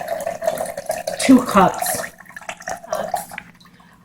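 Cold ice water splashes steadily into a bowl for a Lao meatball mixture, peaking midway and then thinning out, while someone speaks briefly over it.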